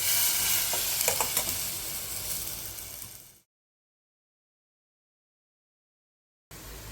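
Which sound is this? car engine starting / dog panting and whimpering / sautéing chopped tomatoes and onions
sautéing chopped tomatoes and onions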